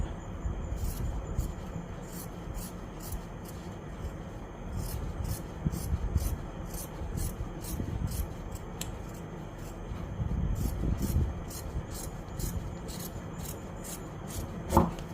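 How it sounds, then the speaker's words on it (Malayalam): Scissors snipping through fabric while cutting out a nighty for sewing, a rapid run of close, crisp regular cuts with soft rubbing and handling of the cloth between strokes. "ഇപ്പം നമുക്കിനി ഇതൊന്ന് കട്ട് ചെയ്യണം"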